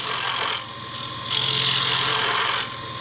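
A 13mm gouge cuts into a wood blank spinning on a lathe, taking the corners off with a close, raspy scraping that swells and eases in two passes over a steady motor hum.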